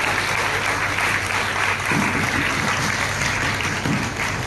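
An audience at a religious saints' gathering claps in sustained, dense applause, loud and steady throughout without a break.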